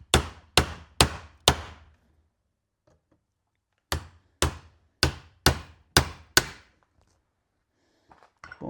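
Hammer blows pop out old rivets in two quick bursts, first four strikes, then after a pause six more in a steady rhythm, each a sharp close knock with a brief metallic tail, followed by faint scraping.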